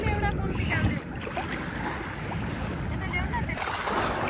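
Sea waves splashing and churning steadily around a swimmer at the shore, a broad continuous wash of water with wind-like noise throughout and no clear separate breaks.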